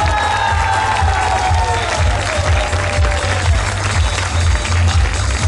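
Concert audience applauding and cheering, loud continuous clapping with crowd shouts over a deep, pulsing low rumble from the venue sound system.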